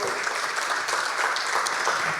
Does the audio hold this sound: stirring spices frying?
no